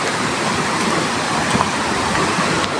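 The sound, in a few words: flowing river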